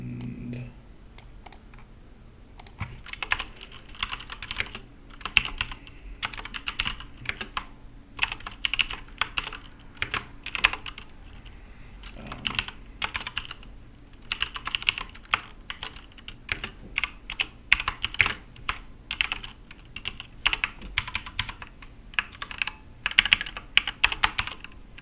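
Steady typing on a computer keyboard while working on a pull request to the Rust compiler, dense bursts of close key clicks with brief pauses throughout, no talking.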